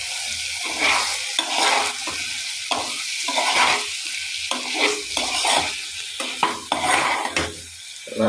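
Chicken with masala and salt being stirred in a pan over the stove, with repeated scraping strokes of a spoon against the metal over a soft sizzle, close up and without speech.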